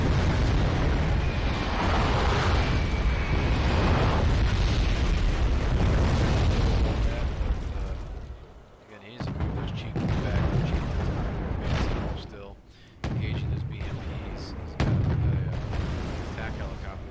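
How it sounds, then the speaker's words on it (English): Heavy booming artillery blasts in Wargame: AirLand Battle, dense low rumbles and explosions for several seconds, then scattered separate impacts with quieter gaps, a voice talking over parts. "Artillery now landing."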